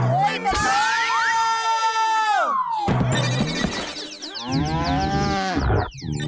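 A cartoon buffalo in a Hindi Motu Patlu animated scene lets out loud, drawn-out bellows that swoop in pitch, in a dense, busy mix with other cartoon sound effects.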